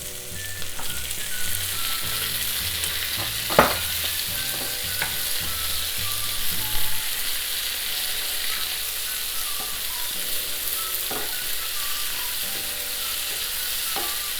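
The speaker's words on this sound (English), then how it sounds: "Adding tomatoes." Tomatoes hit a hot frying pan for a Muttar Paneer dish, setting off a steady, dense sizzle that continues throughout with an occasional sharp crackle and clatter.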